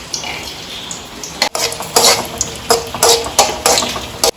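A spoon stirs cashew nuts frying in ghee in a metal pan while making payasam. Repeated loud scraping and clinking strokes come about twice a second over a soft sizzle, with no talking.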